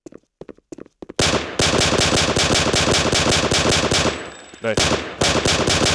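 Rapid pistol fire in a bomb-defusal shooting game, a few sharp shots then long dense bursts of fast loud gunfire with brief pauses, a voice briefly speaking over it.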